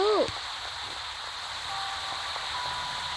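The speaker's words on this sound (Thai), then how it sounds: "ฝนบ้านเราตกเลย" Rain falling outside a house, a soft continuous hiss of drops that carries on steadily after a brief burst of high-pitched voice at the start.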